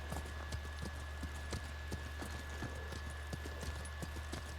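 Horse hooves clip-clopping in the video game Ghost of Tsushima, a steady rhythmic trot of sharp hoof strikes over a constant hum of background ambience.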